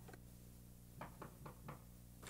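Four sharp knocks rap on a door in a drama scene, evenly spaced and moderately close, over a quiet room tone with no talking.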